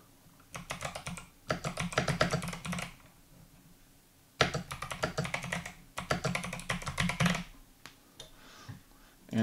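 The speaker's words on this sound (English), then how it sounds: "And then we can start typing." Typing on an 8BitDo C64 Edition keyboard: bursts of rapid, crisp key clacks close to the microphone, separated by brief pauses, with a faint voice in the background.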